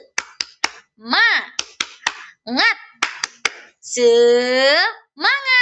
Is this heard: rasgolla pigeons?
no